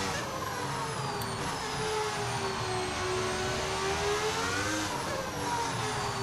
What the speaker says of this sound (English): Well, that's actually an audio mod. It's a V10 engine mod.